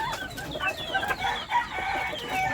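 A black Sweater Claret gamefowl clucks in a string of short, scratchy calls, fairly faint, with no one talking.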